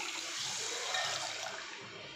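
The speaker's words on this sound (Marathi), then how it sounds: "त्याच्यात आपण आता पाणी टाकूयात." Water poured into a cooking pan, a faint, brief rushing splash that swells slightly and fades, with no voices.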